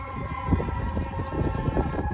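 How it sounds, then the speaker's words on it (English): A fire engine siren wails steadily in the background outdoors near a neighborhood birthday party, a continuous tone that stays under faint wind and ambient noise. "The siren in the background."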